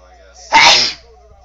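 A single close, sharp sneeze from a person playing a video game, a brief forceful burst against quiet background.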